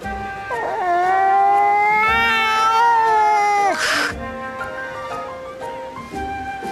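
A cat meows in the 3DS game Bravely Second, a long, loud, wavering wail that rises and falls for about three seconds before a short burst of noise, then a quieter drawn-out tone follows.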